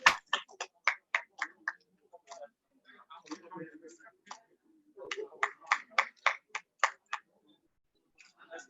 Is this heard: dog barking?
no